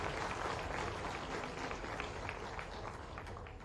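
Audience applause at a university convocation ceremony, a crowd clapping in a soft, distant patter that holds steady and then eases slightly toward the end.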